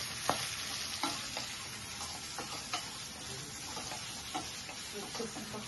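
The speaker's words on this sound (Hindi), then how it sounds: "2 प्याज हमने काट लिया था, ये डालेंगे, इसे 2 हाथ चलाएंगे" Chopped onions hit a hot pan and are stirred while frying, producing a steady low sizzle with intermittent scraping and tapping of a spoon against the pan.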